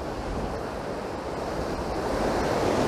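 Strong wind buffets the microphone while Baltic Sea waves wash and roar continuously along the shore, loud and steady with no voices.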